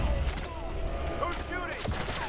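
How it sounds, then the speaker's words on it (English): Gunfire crackles in Deus Ex: Mankind Divided, a short stretch of muffled shots in the background beneath game voices talking. "Who's shooting?"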